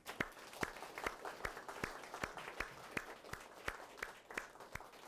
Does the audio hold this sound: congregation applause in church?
yes